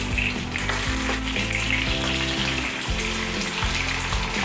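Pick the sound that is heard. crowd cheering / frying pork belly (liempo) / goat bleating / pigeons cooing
frying pork belly (liempo)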